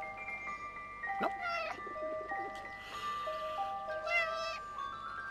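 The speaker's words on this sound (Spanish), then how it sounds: "Solo maulla." Cat meowing inside a video game set in wartime, with a few separate meows standing out clearly over steady background music and ambience.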